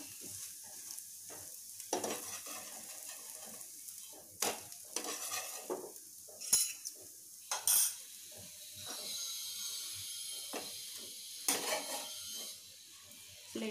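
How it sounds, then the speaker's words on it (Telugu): Wheat flour dosa sizzles steadily on a hot pan, with sharp scraping and tapping knocks as it is flipped and moved; no one speaks. "అటు ఇటు తిప్పుకుంటూ 2 నిమిషాలు వేగిన తర్వాత"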